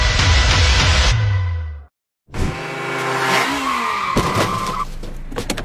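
A car's tires shriek in a long, loud skid. A short gap of silence follows, then the engine and tires return with rising squeals and whines, close and intense.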